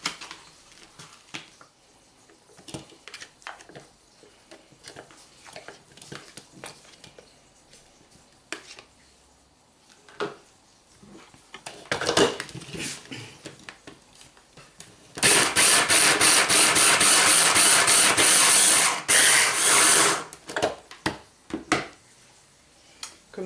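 A kitchen blender mixes Roquefort cheese in a loud, steady whirring burst of about five seconds, preceded by clinks, taps and handling of utensils and followed by more scattered clatter.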